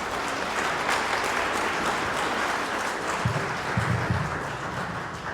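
Audience applause at a book presentation, a continuous wash of clapping from a seated crowd at moderate distance, steady for several seconds with a few low thumps underneath.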